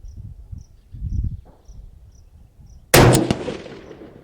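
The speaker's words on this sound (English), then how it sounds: "y'all get to watch me just burn through some ammo here" A single loud rifle shot cracks sharply and rings off as a rifle is re-zeroed at 7,000 feet elevation, following quiet chirping crickets and faint low rustling.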